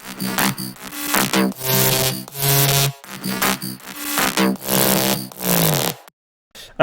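Layered synth bass from an electronic music production plays a rhythmic pattern of thick, buzzy tones with bright upper harmonics, punctuated by brief gaps, loud and up front before a short silence near the end.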